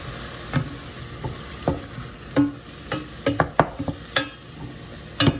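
Mushrooms cook in a pan with a little liquid for a Greek vegetarian moussaka, soft sizzling underneath with scattered close stirring scrapes and clinks of a utensil against the pan.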